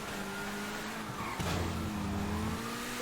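Small Mini car engine in GTA V, revving steadily with a brief surge and tire noise, loud and close.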